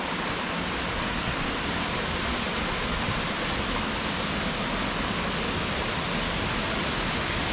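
A steady, roaring rush of falling water at Taman Beji Griya Waterfall in Bali, loud and continuous throughout with no pauses or voices.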